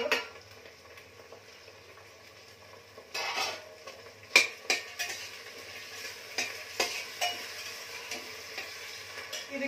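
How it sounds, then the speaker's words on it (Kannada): Field beans, carrots and beans tipped into a cooking pot for a rice dish, near-silent at first, then a burst of tumbling ingredients and sharp clinks of a utensil against the pot, with light scraping and stirring. "ಇವಾಗ ಅವರೆಕಾಳು ಹಾಕ್ತಾ ಇದ್ದೀನಿ, ಹಾಗೆ ಈ ವೆಜಿಟೇಬಲ್ಸ್ ಕೂಡ ಹಾಕ್ತಾ ಇದ್ದೀನಿ"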